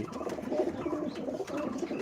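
Pigeons in a loft give soft low cooing, steady and close amid a murmur of fluttering and shuffling with no speech.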